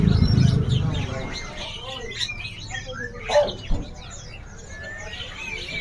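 A caged songbird, a jovin, sings at a bird market with scattered chirps and tweets, some near and bright, while people talk in the background and a low thump opens the scene.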